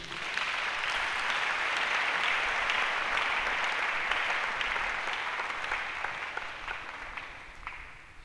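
A church congregation applauding in praise, a dense sustained wash of clapping from many hands that fades slightly toward the end, with no speech over it.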